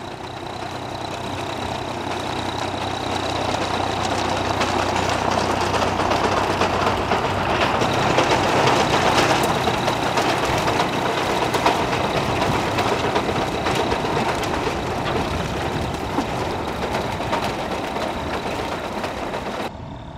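A vintage Vicon Steketee beet harvester works in a field, driven by a running tractor engine with a PTO-driven feeler wheel and knife, making a steady, dense mechanical drone and rattle that holds level throughout, with no voices.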